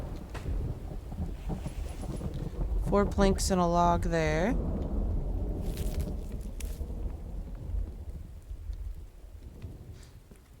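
Thunderstorm in The Infected survival game, with rain hiss and low thunder rumble running steadily beneath a voice, a passing whine midway, then easing to a softer rainy backdrop.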